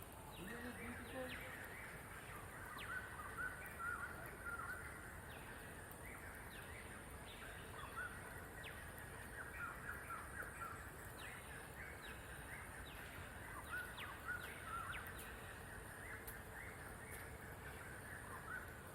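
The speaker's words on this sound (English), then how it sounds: "Hear the sound of the bird. Isn't it beautiful?" Repeated crow-like caws and bird calls ring out at moderate distance in a nature park beside an old quarry, recurring every few seconds over a steady bed of insect hum and ambient noise.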